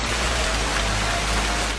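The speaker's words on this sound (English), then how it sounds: "The system produced funnel clouds and dumped rain and hail." Heavy storm rain and hail pour down in a dense, continuous hiss, loud and close, with no voices.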